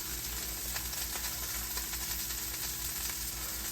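Zucchini and onion whites sizzling in a hot pan, a steady close frying hiss with faint stirring and no talk over it.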